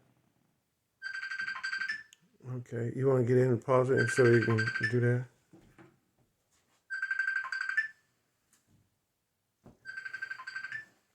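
A phone rings in short repeated bursts of a bright electronic tone, with a person speaking between the first rings, then quiet gaps.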